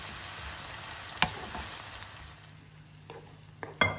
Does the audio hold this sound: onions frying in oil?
yes